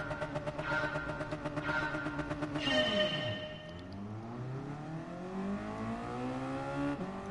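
A race car in Gran Turismo Sport revs hard through the gears with a rising engine whine, then drops and climbs again, each gear change followed by a steady pull with no voices.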